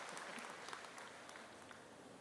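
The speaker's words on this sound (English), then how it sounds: "please give a round of applause to Mr." A school convocation audience applauding a District Teacher of the Year, dense continuous clapping from a large crowd, steady and diffuse, heard quite faintly throughout.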